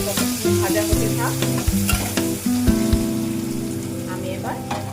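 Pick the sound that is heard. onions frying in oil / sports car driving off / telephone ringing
onions frying in oil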